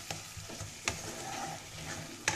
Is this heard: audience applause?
no